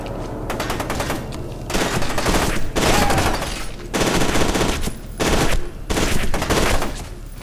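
In the first-person shooter F.E.A.R. 2, enemy gunfire hits the player in repeated loud, close automatic bursts of a second or so each, broken by short gaps, with no talking.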